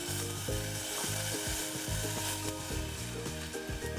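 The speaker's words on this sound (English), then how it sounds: "We add our veal stock." Veal stock poured into a hot pan for a steak dish sizzles steadily and evenly throughout, with sustained tonal notes running underneath.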